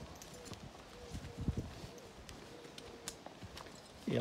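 Draft horses, including a mare and foal, walking on a farm, their hooves clip-clopping in a loose, uneven rhythm at moderate distance, with faint background noise and brief low thumps.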